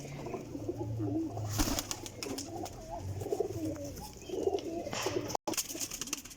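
Amritsari pigeons in a loft coo in low, murmuring bursts amid a busy, noisy background with scattered clatter and a short dropout, moderately close.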